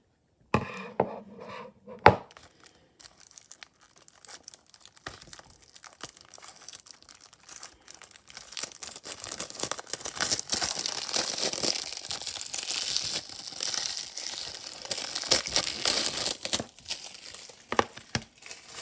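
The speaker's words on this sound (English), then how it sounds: "Now we got the plastic off, and now let's open up the case here." Plastic wrap is torn and peeled from a Jungle Book disc case, first a few sharp isolated crackles, then a long close run of crinkling and ripping.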